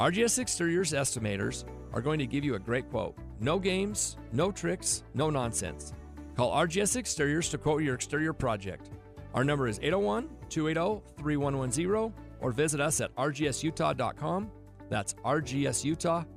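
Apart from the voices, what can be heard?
No distinct noise like a dog, phone or traffic.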